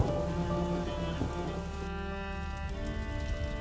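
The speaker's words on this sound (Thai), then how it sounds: "จะดีไหมถ้าไปหลบฝนดีกว่าน่ะ" Rain in the video game A Plague Tale: Innocence, a steady, even hiss of falling water that runs throughout under sustained background music tones.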